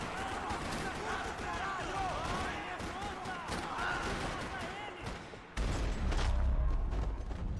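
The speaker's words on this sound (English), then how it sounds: "Another parking lot rattling with gunfire." Gunfire rattles across a parking lot in the video game Max Payne 3, with bursts of shots and thuds heard fairly quietly, and in-game voices talking over the fighting before a louder burst near the end.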